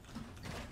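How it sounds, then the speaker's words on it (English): Weapon reload in the video game Fortnite Battle Royale, a brief, faint mechanical clatter of ratcheting clicks under a constant background hum. "I'm reloading."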